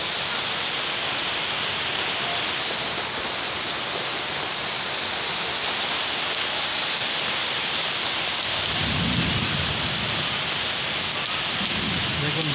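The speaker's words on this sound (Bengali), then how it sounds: "ভালোই বৃষ্টি হচ্ছে দেখুন, সঙ্গে ঝড়" Heavy rain pours steadily on surfaces in a constant dense hiss, with a low rumble of distant thunder swelling near the end and no voices.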